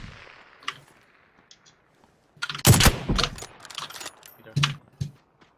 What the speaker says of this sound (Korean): 저 쏘고 있어요.